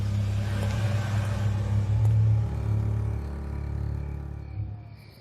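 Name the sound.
car driving away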